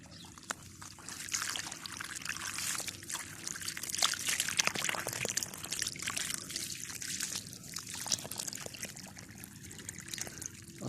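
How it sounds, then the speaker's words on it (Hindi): Irrigation water trickles steadily into a young date palm field in a village near Madinah, a continuous soft gurgle and dribble heard close up with outdoor noise and no talk. "अभी पानी लग रहा है।"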